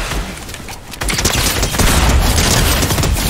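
Rapid bursts of gunfire ring out in a roleplay shooter game, loud and dense, with sustained overlapping volleys that intensify in the second half.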